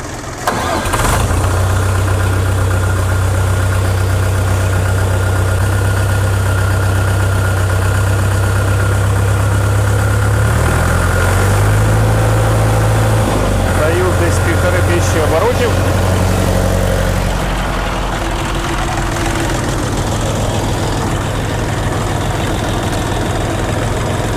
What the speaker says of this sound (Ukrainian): Отже, заводимо тракторці